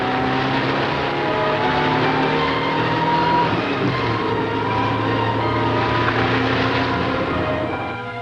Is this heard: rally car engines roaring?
yes